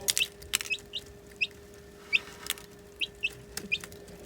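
A hen clucks nearby in short, spaced bursts over a steady low hum, with no talking.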